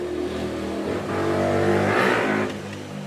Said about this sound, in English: there's an idiot who loves to drive round on a moped that he thinks sounds like a Kawasaki 650